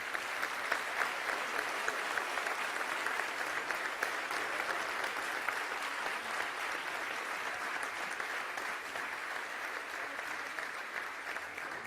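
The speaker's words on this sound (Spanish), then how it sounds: "Un aplauso." An audience at an honorary doctorate ceremony at a university applauds with steady, dense clapping that holds evenly throughout, fairly soft and from a distance.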